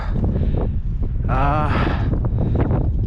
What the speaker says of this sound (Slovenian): Kakor vidite, piha ful.